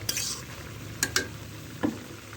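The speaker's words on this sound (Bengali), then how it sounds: "এবার আমি ভালোভাবে কষিয়ে নেব।" Boiled potato, raw plantain and greens stalks get stir-fried in a pan, a faint low sizzle under a few quick, separate spatula clinks and scrapes, close and brief with no talk.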